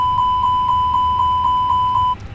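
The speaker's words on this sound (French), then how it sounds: "On va ensuite faire le test alarme incendie de l'APU" An Airbus A320 APU fire alarm test in a flight simulator: an electronic tone sounds continuously, pulsing in a regular rapid beat about four times per second, then cuts off abruptly near the end.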